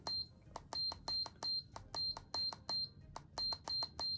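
A series of short electronic beeps from a heat press as its temperature is raised, repeating in quick pairs and bursts with brief pauses between, clear and close.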